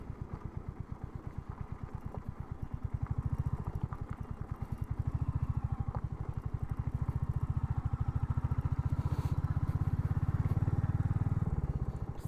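A Hunter motorcycle loaded with heavy luggage on a road trip from Hyderabad to Goa throbs steadily at close range, its engine note rising and holding as it rides on, alone without talk.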